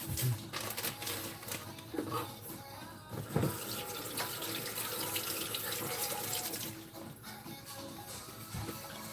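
Tap water runs steadily from a kitchen faucet while preparing sauced shrimp with Chinese sausage, carrots and potato, a continuous close splashing stream with occasional clinks.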